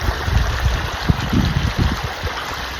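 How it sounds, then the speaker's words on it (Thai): Water released from a canal flowing into a fish holding pond, a steady loud rushing gush with low churning turbulence, close and continuous with no voices. "นี่ครับกำลัง เอาน้ำลงครับ"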